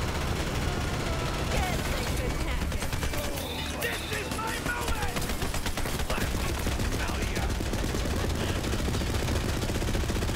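A Gatling gun in Borderlands 3 fires continuously at a high rate, a dense, loud, relentless stream of gunfire with mechanical clatter throughout the whole stretch.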